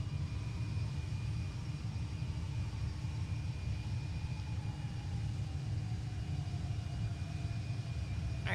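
Airplane engine in the Project Flight flight game, taxiing on the ground as a presidential aircraft, producing a steady, continuous low rumbling drone with a faint high whine throughout.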